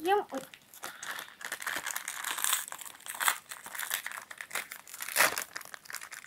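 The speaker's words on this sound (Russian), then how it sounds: "Давайте еще откроем пакетик." A plastic mystery packet crinkles and tears as it is opened by hand, a close, busy rustling that runs throughout with a voice talking over it.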